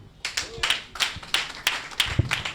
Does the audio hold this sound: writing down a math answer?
no